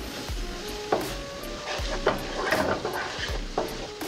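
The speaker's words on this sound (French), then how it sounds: "On tourne jusqu'à ce que le citron s'évapore" Lemon juice sizzles in a hot pan while a utensil stirs and knocks against it until the liquid cooks off, with steady frying hiss and irregular scraping taps, close-up.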